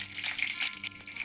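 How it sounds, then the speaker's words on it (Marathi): Curry leaves crackle in two spoonfuls of hot oil in a kadhai, giving a soft, steady frying hiss with faint pops, low in volume and with no talk. "कढीपत्ता छान कडकडून"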